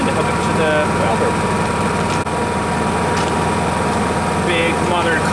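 Engine-driven welder running on eco throttle, a steady, loud, close engine drone at low idle, with someone talking over it.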